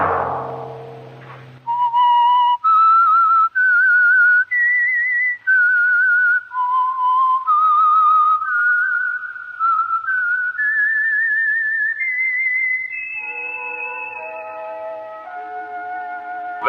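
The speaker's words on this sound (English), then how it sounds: "Let that whistle be your signal for the Whistler" Whistled theme signal of The Whistler radio show, a lone human whistle carrying a slow, wandering melody of sustained notes, loud and clear, rising in pitch before settling into a lower closing phrase.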